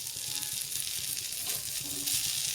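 Cumin seeds sizzle steadily in hot oil poured over chopped coriander while chilli thecha is being made, a close, continuous frying hiss.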